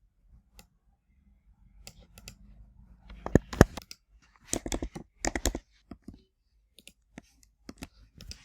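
Sparse clicks and quick clusters of key taps, close and crisp, irregular in rhythm with quiet gaps between bursts.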